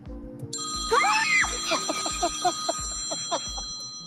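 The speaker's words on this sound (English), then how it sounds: "if you listen real close, you might be able to hear that phone ringing" Telephone ringing with a repeated trilling ring tone in short bursts over a low rhythmic background, fairly close and clear.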